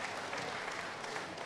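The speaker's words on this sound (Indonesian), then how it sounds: "tepuk tangan untuk Pak Sofyan Wanandi dan Mas Gun" An audience at a civil-society discussion forum applauds for Sofyan Wanandi and Mas Gun, a brief, fairly faint and even patter of many hands clapping at once.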